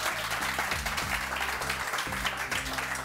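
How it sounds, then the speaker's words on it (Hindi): A studio audience on a morning television show applauds in a steady, dense wash of clapping, faint and distant, with a low musical hum underneath. "तालियां तो बजाओ"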